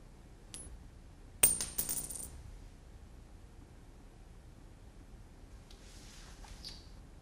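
A single coin is flipped and lands, giving a sharp metallic ring at the toss, then a bright clatter that spins down over about a second before the room goes quiet.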